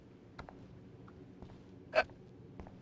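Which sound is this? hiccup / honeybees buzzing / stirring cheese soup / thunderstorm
hiccup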